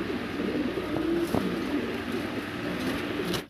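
A pair of silver Sirazi pigeons cooing softly on a farm. Low murmuring coos sit under a steady wash of background noise for a few seconds, and no one speaks.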